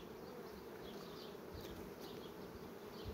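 A swarm of honeybees buzzes at a hive entrance, a dense, continuous hum close by with no talking over it.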